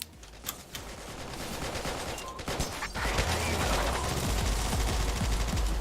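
Machine gun fire rattles in the video game All Day Dying, with a few scattered shots at first, then a steady, loud stream of rapid fire that thickens into a continuous roar partway through.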